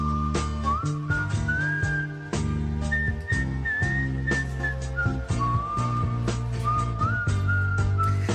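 Melodic human whistling from a 1973 record, a clear wavering tune carried over a steady musical backing throughout.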